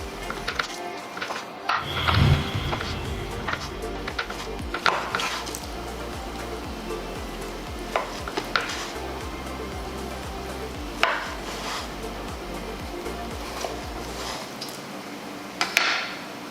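Knife slicing cooked pho oxtail and brisket into thin slices on a board, a steady series of sharp, close cutting taps and knocks over about sixteen seconds with no talking.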